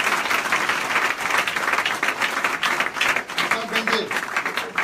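A church congregation bursts into sustained, dense applause, loud and close throughout, with a few voices mixed in.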